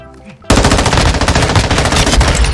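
Automatic weapon fire in the video game Call of Duty: Modern Warfare, starting suddenly after a quiet moment as a loud, rapid, continuous burst of close shots.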